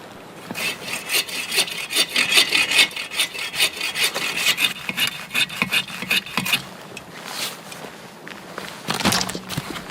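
A handsaw cuts firewood in a frozen forest, a close, rhythmic rasping of back-and-forth strokes that pauses briefly before a few final strokes.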